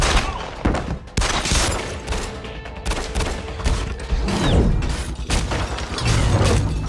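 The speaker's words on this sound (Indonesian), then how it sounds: "Hal ini memicu baku tembak antara mereka" Gunfire rattles through a film shootout scene, dense bursts of loud shots and impacts layered with booms and clattering debris, close and chaotic, with brief voices mixed in.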